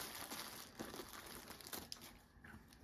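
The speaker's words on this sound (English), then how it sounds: "Let's see if I can unwrap one of these." Plastic packaging around HO scale model rolling stock crinkles and rustles continuously at close range, faint but steady, with a few sharper crackles.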